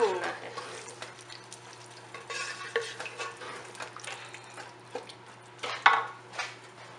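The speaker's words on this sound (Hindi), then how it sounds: "ज्यादा नहीं, 5-10 मिनट के लिए हमने दालों को भूनना है।" Lentils for haleem being roasted and stirred in a pot, with soft dry rustling and scraping plus irregular spoon clinks against the metal, near and fairly quiet.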